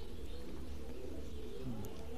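Pigeons at a fancy pigeon loft give low, soft cooing in steady murmuring rolls, fairly faint and continuous over a low background hum, with no talking.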